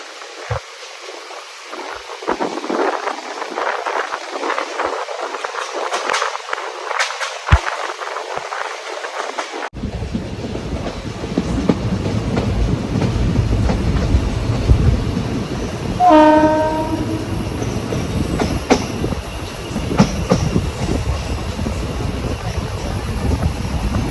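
A train rumbles steadily through the second half on the Shoranur–Coimbatore route near Walayar, and a horn blasts once midway. Before it, quieter, patchy background noise.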